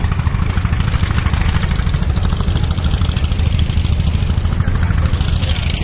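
Steady, loud engine thrum of a motor boat on the Jamuna river near a riverbank char settlement, a continuous low throb running unbroken and close throughout.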